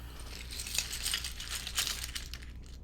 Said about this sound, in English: Let's just move these keycaps out of the way.